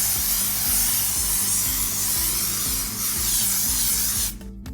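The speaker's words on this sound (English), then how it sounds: "you want to spray them with a good mold release" Mold release sprayed from a can onto plaster molds gives a loud, continuous close-up hiss lasting several seconds before it cuts off abruptly, with a low rhythmic mechanical drone running underneath.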